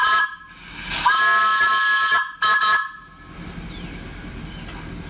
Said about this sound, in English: I'm blowing a whistle for you.